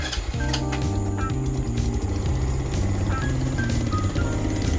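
Grom clone mini motorcycle with a single small engine idling steadily after a cold start, its rhythmic putter close and continuous beneath a background of bright tonal sounds.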